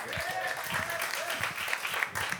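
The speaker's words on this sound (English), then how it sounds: "Give him another round of applause, please." Audience applause at a comedy show, a brief burst of fairly quiet clapping under and around a voice speaking over it.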